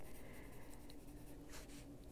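Pencil drawing on paper, a quiet continuous scratchy shading sound with soft strokes, close but faint.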